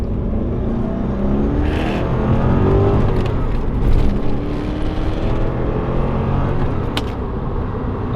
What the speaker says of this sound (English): And then we'll do a little first gear pull.